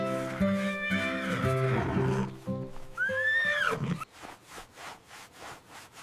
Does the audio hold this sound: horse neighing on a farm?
yes